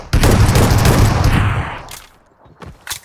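Automatic gunfire in an online shooter match, a dense, loud burst of rapid shots lasting over a second, then trailing off into scattered single reports and quieter game sounds.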